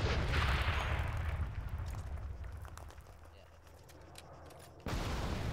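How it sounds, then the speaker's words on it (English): Gunfire exchange in Arma 3, heard as a dense run of sharp, distant-sounding cracks and pops over a steady low rumble, growing sparser midway before the background abruptly shifts near the end. "they're shooting back"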